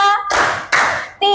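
Two short bursts of class clapping in a counted rhythm, with children's voices chanting between the claps, close and loud.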